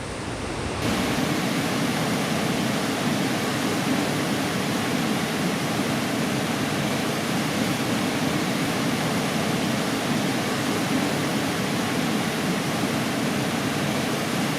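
Chap Falls on the Bloodvein River thunders steadily, a dense broadband roar of whitewater that stays constant and loud throughout with no pauses.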